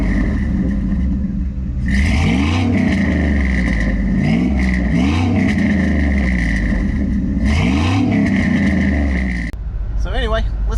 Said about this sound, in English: I do have a Shorty MagnaFlow exhaust on this truck, and I love it. It sounds great.